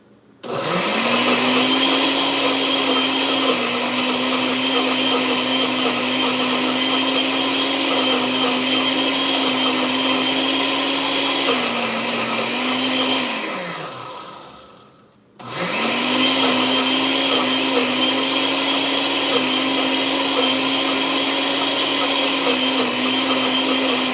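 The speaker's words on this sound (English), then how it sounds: "I'm going to kind of puree in this onion" A blender purees an onion with a loud, steady motor whir at close range. It runs for about twelve seconds, spins down to a stop, then starts again and keeps running.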